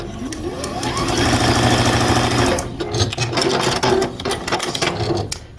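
A sewing machine stitches quilt block rows together, a loud fast rhythmic chatter for about three seconds, then shorter stop-and-start bursts and handling clicks.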